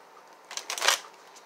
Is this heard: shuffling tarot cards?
yes